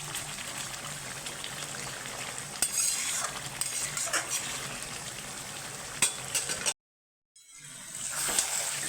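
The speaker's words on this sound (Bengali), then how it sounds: "মাংসটাকে 2 মিনিট অন্তর নেড়ে দিতে হবে। আমি 2 মিনিট অন্তর নেড়ে দিচ্ছি।" Chicken meat sizzles in a cooking pot while being stirred, a close, steady frying hiss with intermittent spatula scrapes and clinks, then a short silent gap before the sizzle resumes.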